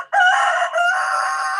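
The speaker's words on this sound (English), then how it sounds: "there's a rooster. I heard it." A rooster crows once, loud and fairly close, a drawn-out cock-a-doodle-doo with a brief break partway through, heard alone with no talk over it.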